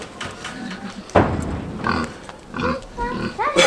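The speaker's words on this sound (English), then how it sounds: "I'm gonna miss you, big good pigs." KuneKune pigs grunting near a farm fence, several short snorting oinks and low grunts in uneven bursts, close and fairly loud, with a thump among them.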